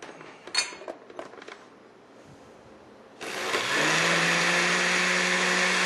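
Faint clinks and handling noises, then a blender whirs to life pureeing asparagus soup and runs loud and steady, its motor rising to a constant high whine.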